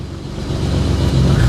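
A BMW E30 3 Series estate engine revs through a small muffler, a loud, deep exhaust drone that swells steadily over a brief moment, heard on its own without talk.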